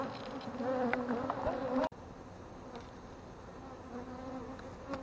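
A dense, steady buzz of many honey bees swarming close by a massive hive in a school building, with individual insects droning past; the hum drops slightly in level partway through.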